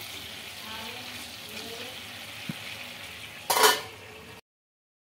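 Eggplant frying in oil in a pan, a steady close sizzle with occasional stirring scrapes and a brief louder burst of spatter near the end before it cuts off.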